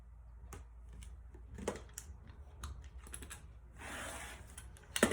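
Scissors or a rotary cutter slicing quilt fabric along a marked line between two sewn seams for half-square triangles, heard as soft, quiet scraping and clicking strokes spread across the moment with a brief broader swish near the end.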